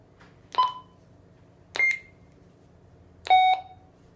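Three separate electronic beeps from the keypad of a Bridge Comm BCH-220 handheld radio, spaced about a second apart, clear and close against a quiet background.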